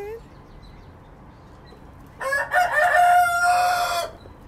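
A rooster crows loudly nearby, one long harmonic call of about two seconds after a quiet stretch of background murmur.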